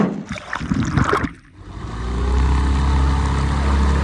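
A truck fitted with a propeller bogger setup skims through shallow water, opening with splashing and churning, then settling into a loud, steady low propeller drone.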